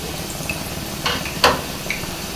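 Oil heats in a pan on the stove for crispy gobi manchurian, giving a low, faint steady sizzle with a few soft crackles and a clearer clink-like tick near the middle, with no talk.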